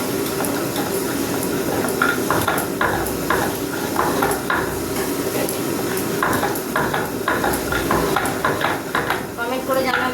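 Poppy seeds (posto) frying and being stirred in a pan, a continuous sizzle with repeated spatula scrapes and clinks against the pan, with a voice talking over it.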